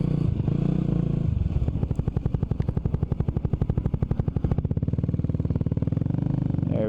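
A 1989 Honda GB250 Clubman single-cylinder motorcycle runs close by, its engine thumping in a steady rapid pulse as it drops down through the gears, revs shifting with each change and wind noise underneath.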